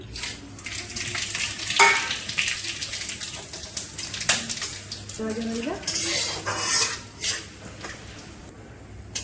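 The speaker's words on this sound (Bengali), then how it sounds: "তেল গরম হয়ে গেছে, এখানে আমি ফোড়নে দেবো তেজপাতা, শুকনো লঙ্কা, গোটা গরম মশলা, গোটা জিরে, একটু রাঁধুনি আর 5 ফোড়ন।" Bay leaves, dried red chilies, whole garam masala, cumin, radhuni and five-spice crackle in hot oil for a khichuri tempering. The loud, busy sizzle comes with repeated metal clinks and scraping of a spoon stirring the pan.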